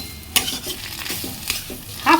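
Shrimp and onion stirred and frying in a pan, a soft steady sizzle broken by a few sharp scrapes and clinks of the spoon, ending in a louder burst of hissing.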